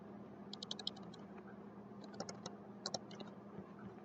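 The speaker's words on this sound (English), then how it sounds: "I simply backspace over and type in 2000" Number keys and backspace are tapped on a computer keyboard in quick clustered bursts of light clicks, close and quiet over a steady low hum, with no one speaking.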